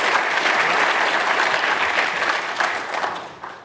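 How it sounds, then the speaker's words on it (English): Steady applause from a crowd, dense clapping that holds evenly throughout and begins to thin out near the end. "Round of applause"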